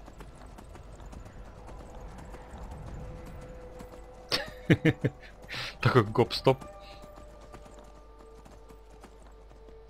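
A horse in the Skyrim role-playing game clip-clops with a cluster of sharp hoofbeats mid-clip under ongoing talk, with a faint whinny suggested.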